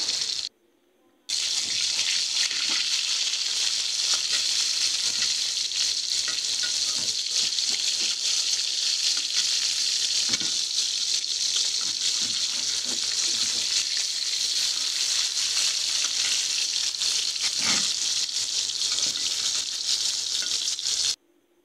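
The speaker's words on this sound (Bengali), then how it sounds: "দিয়ে মাছগুলো দিয়ে ভালো করে লাড়াচাড়া দিয়ে উল্টায় পাল্টায় ভাজে নেব" Tilapia fish frying in hot oil in a wok, a steady loud sizzle running throughout with occasional stirring and scraping knocks, heard alone without talk after a brief silent start.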